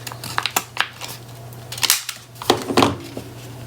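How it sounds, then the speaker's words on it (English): Scissors cutting out a paper circle, a series of sharp, close snips and crisp paper crunches in irregular bursts, with short pauses between cuts and a low steady hum underneath. "We'll go ahead and cut the circle."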